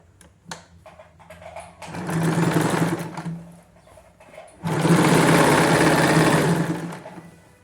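A sewing machine runs two bursts of fast, loud, close stitching along the inner seam of palazzo pants, with a few light clicks before the first run and a short pause between runs.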